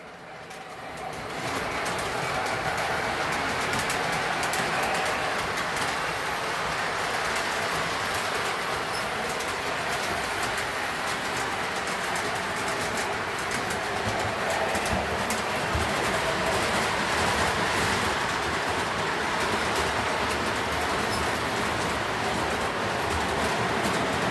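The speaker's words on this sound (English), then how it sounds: "Always got to have a train to run." A steady, continuous rumble and whir of a small train running along its track, unbroken throughout with faint rhythmic clicking.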